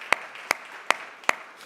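An audience claps during a talk: four sharp, evenly spaced handclaps, fairly quiet and close, with no voices heard.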